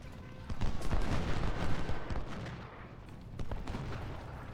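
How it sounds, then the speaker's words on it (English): Rolling volleys of musket and cannon fire crackle from an Ultimate General: Civil War battle, a dense, continuous rumble of shots that swells in the first half and eases later, heard without speech. "They're shooting at Jones."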